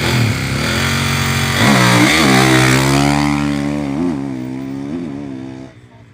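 A Kawasaki supermoto motorcycle engine revs loudly up close at a rally stage start, its pitch climbing and dipping through several throttle blips before dropping off at the end.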